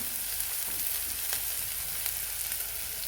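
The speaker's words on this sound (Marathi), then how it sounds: "कांदा गुलाबी रंगाचा मस्तपर्यंत परतून घ्यायचा" Onions fry in a pan with cumin seeds, giving a continuous quiet sizzle and faint crackle, with a stir or two scraping the pan.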